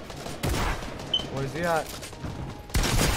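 Gunfire in the Fortnite video game: two loud bursts of rapid shots, one early and one at the very end, with a player's voice speaking between them.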